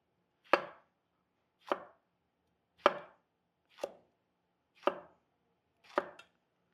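Six crisp knife chops slicing jalapeños on a cutting board, evenly spaced about a second apart, each a sharp close thunk followed by quiet, with no talking.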